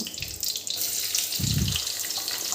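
Ginger and garlic hitting hot oil after mustard seeds have spluttered, a Kerala-style tomato masala curry base; a steady close sizzle and crackle runs throughout, with a low thumping burst midway.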